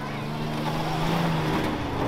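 Rough truck engine at the 2023 Noble County Fair rough truck event, spinning around a turn: a steady, loud, droning roar with a wavering tone throughout.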